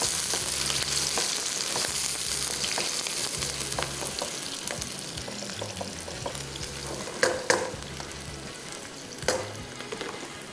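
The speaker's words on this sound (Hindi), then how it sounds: "और प्याज को करते हैं फ्राई।" Onions fry in a pan with a steady, close sizzle, broken up by repeated clinks and scrapes of stirring. A few sharper pops stand out near the end.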